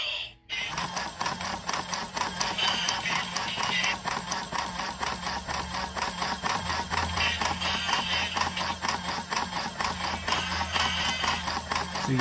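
The small motor of a Wiggles dancing toy guitar whirs slowly with a steady, rapid mechanical clicking rhythm, close and fairly quiet, running continuously without stopping.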